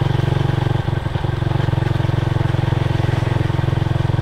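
Freshly rebuilt motorcycle engine being broken in at low speed, a steady close-up thrumming putter with an even pulsing rhythm and a brief irregular blip early on.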